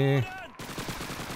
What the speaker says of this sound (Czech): Proč střílí do země?